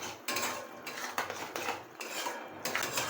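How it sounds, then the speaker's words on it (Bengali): A spoon scrapes and clanks against a pan while spice paste is stirred and fried with salt over low heat, a close run of metallic scraping strokes in uneven bursts, with no voices. "নুন দেওয়ার পর আমি বেশ কিছুক্ষণ ধরে এটাকে ভালো করে কষিয়ে নেব।"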